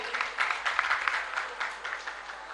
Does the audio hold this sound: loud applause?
yes